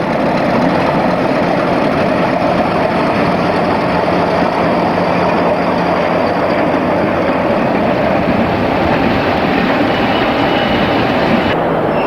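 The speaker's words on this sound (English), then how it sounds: "50001 arriving with a rake of empty stock from Old Oak Common" British Rail Class 50 diesel locomotive 50001 arriving at London Paddington with a rake of empty coaching stock, a steady loud diesel engine drone and rumbling wheels on rail, continuous and close throughout with no talk.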